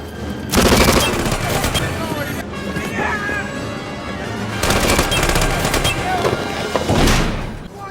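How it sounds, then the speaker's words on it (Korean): Rapid volleys of gunshots crackle in dense bursts, fading briefly between barrages, with some talking mixed underneath. "울려 퍼진 총소리"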